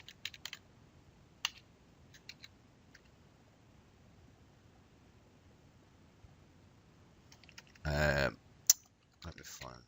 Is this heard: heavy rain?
no